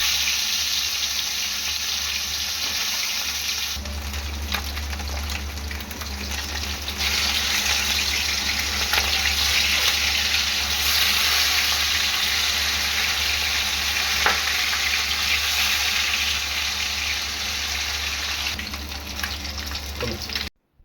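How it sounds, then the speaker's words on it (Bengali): Katla fish pieces fry in hot mustard oil in a wok, a loud continuous sizzle and crackle that steps up in intensity after a few seconds and stays steady until it cuts off abruptly. "তেল গরম হয়ে গেছে, মাছগুলো আমি একে একে ভেজে নেব।"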